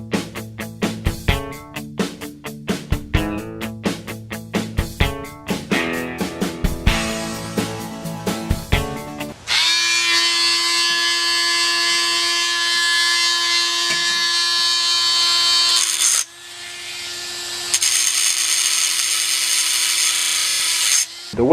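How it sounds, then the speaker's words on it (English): Angle grinder grinding down the rivet heads on a Saiga 20 gauge shotgun during a pistol grip conversion, a loud steady high whine running about ten seconds with a short break, after sharp taps and clicks at the start. "Now it's going to be grinding down these rivets."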